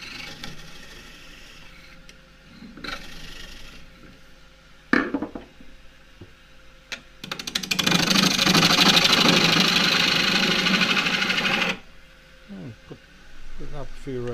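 A wood lathe spins a natural-edge claret ash bowl, giving a steady low hum beneath intermittent scraping cuts from a spindle gouge, with one loud sustained cut of several seconds in the middle.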